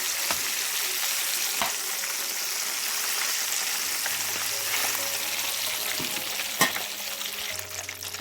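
Chicken wings for naga wings deep fry in hot oil, a steady dense sizzle and bubbling from start to end, with a few soft clinks near the close.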